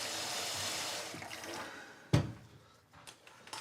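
A tap runs in a steady stream of water that fades out, followed by a sharp clunk and a few faint drips and knocks.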